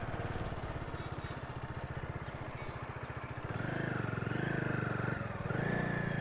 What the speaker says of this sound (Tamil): எக்ஸாஸ்ட் சவுண்டு தான் ரொம்பவே நல்லா இருக்கு.